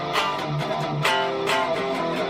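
A distorted electric guitar plays the closing section of a song, a dense, loud, continuous wall of heavy chords with rhythmic pick attacks throughout.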